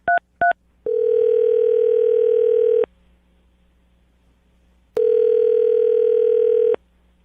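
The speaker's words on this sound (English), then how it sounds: "I'm going to dial the phone number right now" A phone call is placed live on a morning radio show: two quick electronic beeps, then a long steady ringing tone, a pause of silence, and a second long ringing tone, all clear and close.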